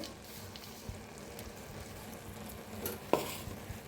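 Cooked spring onion greens topped with crushed peanut are stirred in a pan, making quiet scraping and light clinks over a low sizzle, with one sharper knock near the end.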